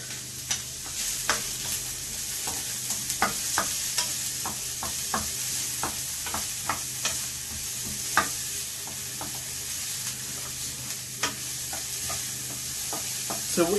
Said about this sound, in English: So what I want to do first is I want to cook my onions.